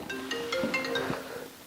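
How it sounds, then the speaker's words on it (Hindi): A mobile phone rings with an incoming call, giving a short run of bright, evenly spaced electronic tones at moderate volume. It is brief, with no talking over it. "एक सेकेंड फोन आ गया।"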